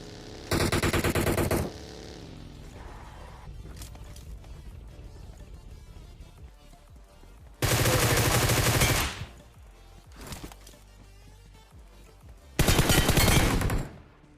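Automatic gunfire in the mobile shooter BGMI comes in three loud sustained bursts spread across the stretch, with quieter game sounds between them and no voices.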